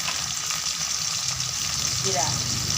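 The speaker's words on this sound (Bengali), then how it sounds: "ভালো করে ভেজে রসুন বাটা দিয়ে দিলাম" Garlic paste frying along with fish in a pan, a loud continuous sizzle with steady bubbling and light stirring, nearby and dominant.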